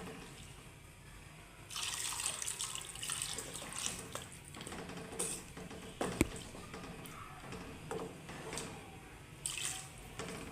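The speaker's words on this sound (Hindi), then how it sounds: "हम थोड़ा सा बस इसके अंदर पानी ऐड करेंगे।" A steady stream of water pours into a pot of soaked moong dal for several seconds, a close continuous splashing trickle with small clinks from the vessel.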